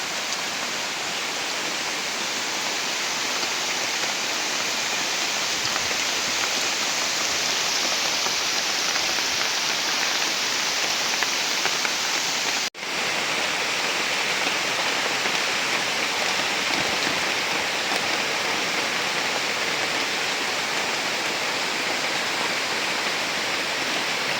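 Heavy storm rain pouring down outside, a dense, even, loud rush of water that continues unbroken throughout with no voices.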